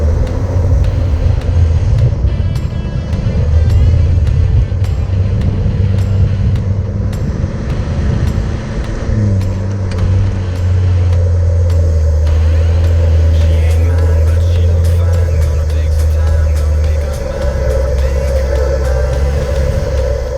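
An off-road vehicle in third gear low grinds up a sandy incline on a beach trail, a steady low engine drone rising and falling in strain, loud and close with rumbling throughout.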